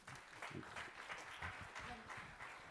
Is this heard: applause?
yes